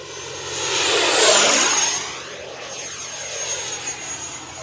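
An FMS F-18 70mm electric ducted-fan RC jet sweeps past with a loud rising whine that peaks and fades, a high steady tone over a broad rushing roar, with no talk.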